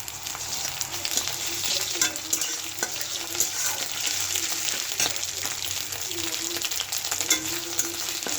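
Onion and ginger fry in a pan for a jute-leaf curry, a steady close crackling sizzle running throughout with scattered sharper pops and stirring scrapes, no voices.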